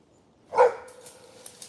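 A single dog bark, likely from a Rottweiler or pit bull on an outdoor morning walk in nature: one sharp, fairly close bark followed by a short fading tail, otherwise quiet.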